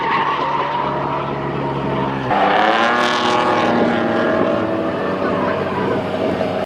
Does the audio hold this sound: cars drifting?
yes